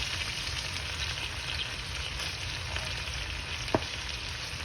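Chinese fried rice sizzles steadily in a hot pan as ginger is added, an even frying hiss throughout with one brief sharp clink of a utensil near the end; no talking.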